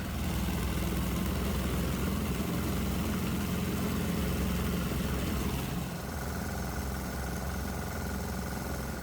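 A diesel engine drones on loudly and evenly as its loads are shut off, the steady heavy rumble easing to a slightly lighter, quieter note after about six seconds, with no talking over it.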